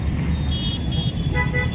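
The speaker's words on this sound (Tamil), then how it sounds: "ஒரே டிராஃபிக் கிராஸ் கூட பண்ண முடியலங்க பாருங்க ஒரே ஃபுல்லாக டிராஃபிக்" Dense road traffic on a busy street outside a café, with steady engine rumble and several car horns tooting close by; no talking.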